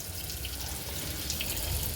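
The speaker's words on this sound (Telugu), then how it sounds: "ఇదిగోండి ఇక్కడ కూడా వాటర్ వస్తుంది" Tap water running steadily in an outdoor wash area beside a house, a constant close splashing hiss with no talk over it.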